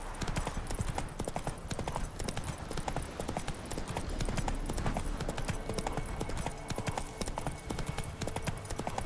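Roach, the horse in The Witcher 3, gallops with rapid, close, drumming hoofbeats in a steady rhythm, joined by faint scattered in-game sounds and no speech.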